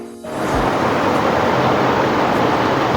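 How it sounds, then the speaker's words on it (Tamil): A gas stove burner catches and roars steadily under a cooking pan set for quail gravy, a loud continuous whooshing hiss that starts after a brief quiet moment and holds evenly to the end. "கேஸை பற்ற வச்சுட்டேன்."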